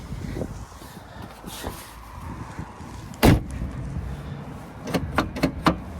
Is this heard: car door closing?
yes